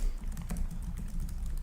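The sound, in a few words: typing on Acer Predator Helios 300 laptop keyboard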